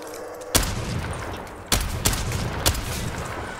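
Gunfire in a bunker-set video game sounds as about four sharp, separate shots over a steady low background hum, with no talking.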